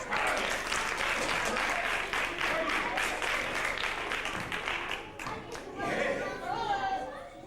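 Audience at a children's theatre show applauds volunteers called up from the rows, dense clapping mixed with chatter and children's voices, easing slightly before swelling again.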